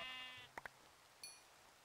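Sheep in the Minecraft video game bleating: two quick close bleats followed by a single higher bleat, clear against a quiet background with a brief tonal game sound at the start.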